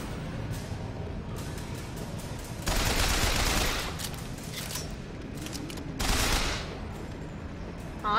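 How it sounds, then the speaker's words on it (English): Gunfire in the video game Bioshock Infinite, rapid bursts of shots, two dense volleys standing out over a busy background of constant clatter, moderately loud. "Oh, I can shoot him from here, can't I?"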